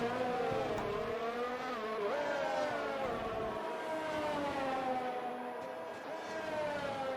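Ferrari race car engines in an Xbox racing game, a sustained high-pitched whine with layered harmonics holding steady and rising and falling slightly with throttle, continuous and fairly loud without talk.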